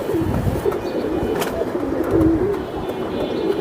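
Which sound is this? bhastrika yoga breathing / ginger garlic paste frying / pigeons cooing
pigeons cooing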